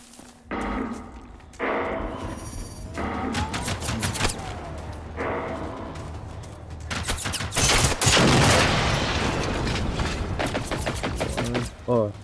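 Gunfire from a hunter robot in the game Generation Zero, loud dense bursts and rattling volleys with sharp thuds, starting as spaced shots and building into sustained heavy fire through most of the stretch.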